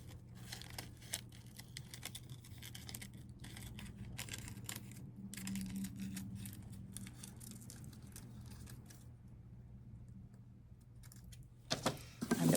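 Scissors snipping paper while a dragonfly shape is cut out of a craft piece, faint repeated close cuts and paper rustles over a low room hum, ending with a louder handling clatter.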